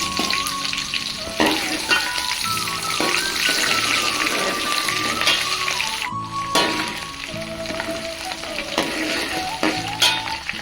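Large-cut onion pieces drop into hot oil in a pan for tomato mint rice and sizzle steadily throughout, a loud, continuous frying hiss with occasional stirring clatter and no talking.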